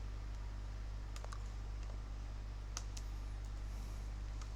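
Keystrokes on a computer keyboard as an IP address is typed during a Docker lecture, a few sparse clicks over a steady low electrical hum, close and fairly quiet.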